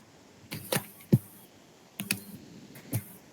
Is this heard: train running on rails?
no